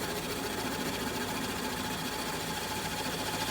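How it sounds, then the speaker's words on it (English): A wood lathe spins a black walnut bowl blank, giving a steady, continuous whir with a faint rhythmic buzz throughout, close and fairly quiet with no talking. "We'll slow the lathe down"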